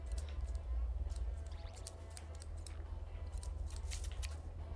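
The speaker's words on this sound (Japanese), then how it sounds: "使えねえハサミだ" Scissors handled in a workshop in the video game Life is Strange 2, giving a run of crisp metallic snips and clicks over a steady low rumble, with no talking.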